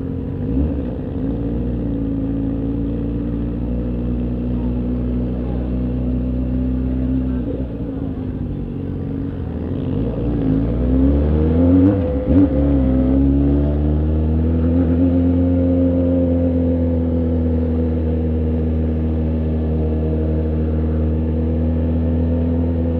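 Motorcycles, including a Yamaha XJ6, ride and rev while entering an international motorcycle rally, with steady engine drone, rising and falling revs, and a louder surge in the middle, continuous and close.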